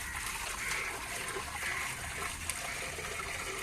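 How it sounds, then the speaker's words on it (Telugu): Water pours steadily into a bucket of starch paste meant for stiffening linen cloth, a continuous even splashing gush that stays fairly quiet and close, with no talking. "కొంచెం వాటర్ అయితే పట్టి ఇంకా తిప్పి అందులో పోసాను"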